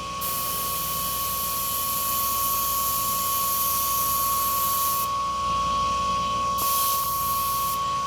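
An airbrush sprays paint through a dryer sheet or quilt batting to make texture, a steady loud hiss with a constant high whine that cuts off briefly a few times and then resumes.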